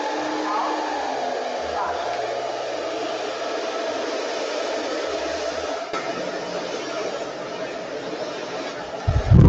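A hair dryer on a hot, low-speed setting blows steadily and fairly loud throughout, with faint murmurs of voices underneath and a brief bump at the very end.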